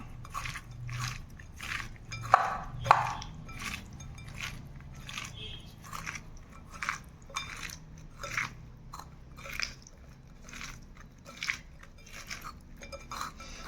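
Fish pieces being mixed by hand with salt and turmeric for a traditional mixed-fish fry, giving a steady run of soft, wet squishing and light clicking touches, close and moderately quiet, with no talk.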